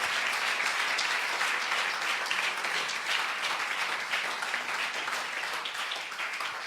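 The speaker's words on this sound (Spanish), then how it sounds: "Denle un aplauso a ese nombre." Church congregation applauding during a sermon, a dense continuous wash of clapping that holds steady for several seconds and tapers slightly at the end.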